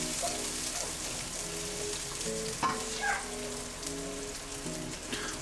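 Shallots and garlic frying in a pan for a prawn curry with coconut milk and peanuts, a steady close sizzle with faint scrapes and clicks, no talking.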